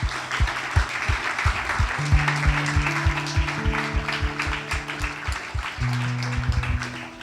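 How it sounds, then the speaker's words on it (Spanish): A church congregation claps steadily at a Christmas Eve worship service, dense sustained applause with rhythmic beats, while sustained organ or keyboard notes play underneath. "Denle un aplauso al Señor."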